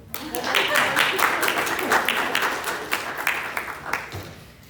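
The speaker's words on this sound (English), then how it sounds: "You can clap if you want." A small chemistry class claps at the end of a session, a steady patter of close hand claps filling the room, with a voice talking faintly under it.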